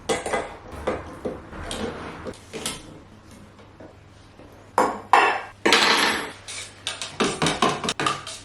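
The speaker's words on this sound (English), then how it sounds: "So let's get it open and give it a stir" A tin of Osmo floor oil is prised open and stirred, producing close metallic clanks, scrapes and knocks in irregular bursts with quieter pauses between, and no voices.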